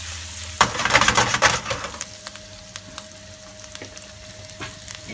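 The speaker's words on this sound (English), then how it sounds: "Now in with our pickled ginger. We're starting to release our flavours into that butter." Pickled ginger hits melting butter in a pan with a sudden loud burst of crackling sizzle that settles after a second or two into a quieter frying hiss, with a few light utensil scrapes and a faint steady tone.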